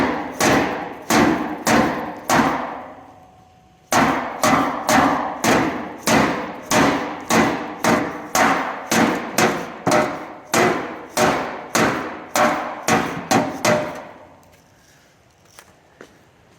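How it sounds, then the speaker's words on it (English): A hammer pounds a dent out of sheet metal in a shop, about two dozen sharp, ringing metallic blows in steady bursts, close and loud, with a short pause midway. "Let me give a shot at popping this dent out right here."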